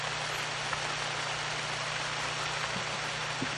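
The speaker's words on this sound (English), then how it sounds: "Let's get out of the rain." Steady rain falls in a night hunting video game, a dense even hiss that fills the whole clip at moderate level, with a faint low hum underneath and no talk.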